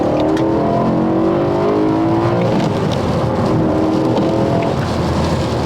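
A V8 BMW M3 engine roars loudly and continuously, its pitch climbing as it revs hard to 8,000 rpm, with no talking over it.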